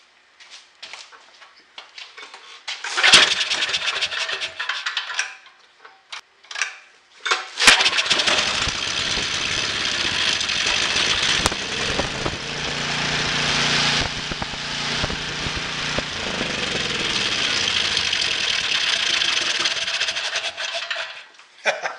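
A repaired generator engine cranks with a few short bursts, then catches and runs loudly and steadily. It is close by and keeps going unevenly for more than ten seconds, with some clattering metallic noise mixed in.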